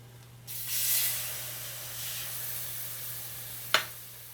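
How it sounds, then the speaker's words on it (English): Heavy cream and whole milk poured into a hot pan, making a sudden steady hiss and sizzle that swells, then fades, with a sharp clack near the end over a low background hum. "we're gonna go ahead and add our heavy cream and our whole milk"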